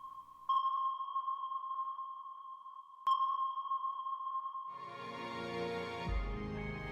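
Clean, evenly spaced electronic sonar pings ring out alone, each a steady high tone, before a broader burst of noise swells near the end.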